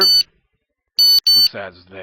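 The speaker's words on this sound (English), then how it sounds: "Okay, that's our alarm there." Smoke alarm beeping in three loud bursts, one short and two longer, with a gap after the first, then a voice speaking right after the last beep.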